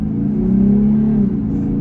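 Jeep Gladiator fitted with a Sprint Booster pulling away in Race mode, a steady loud engine drone that swells slightly as it accelerates, close and continuous with no talking.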